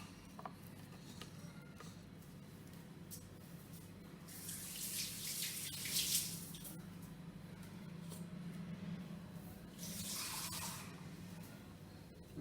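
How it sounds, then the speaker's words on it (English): Water runs from a tap and splashes into besan (gram flour) batter in two bursts, a longer rushing pour in the middle and a shorter one near the end, over a steady low kitchen hum. "I'm just adding a little bit more water to make sure that it is nice and flowy."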